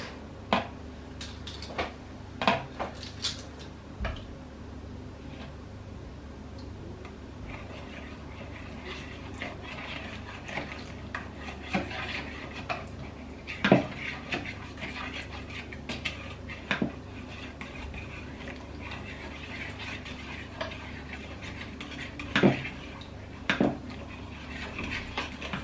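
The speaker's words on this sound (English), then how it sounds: "Gradually whisk 4 tablespoons of the hot thickened stock into the egg cream mix" Clinking of a whisk against a bowl as hot thickened stock is gradually beaten into an egg and cream mixture for Finnish vegetable soup, with scattered light metallic taps and scrapes in a quiet kitchen.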